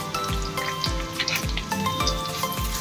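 Sliced large onions and curry leaves crackle and sizzle in sesame oil for a shark fish curry, with a steady close frying hiss broken by regular low knocks of stirring about every half second.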